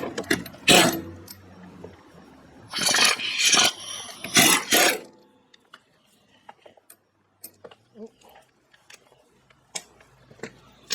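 A power tool gun starts a bolt in a socket during a Cub Cadet steering repair, with a short buzzing burst and then a longer run of rattling bursts, followed by scattered light clicks and mechanical ticks.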